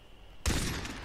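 Gunfire from a weapon in the video game Far Cry 3, a sudden loud close burst of shots after a quiet moment, ringing briefly before trailing off.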